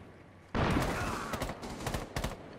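Rapid gunfire bursts in the tactical shooter Rainbow Six, erupting suddenly and loud, then continuing as overlapping shots with a few sharp louder cracks.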